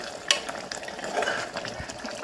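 A spoon stirs and scrapes through a thick mutton curry with mutton masala in a pot, with a soft sizzle underneath.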